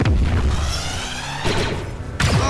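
Javelin missiles launch with a loud roaring whoosh and explode in a heavy boom, followed by a second sharp blast near the end, all dense and close with no talking.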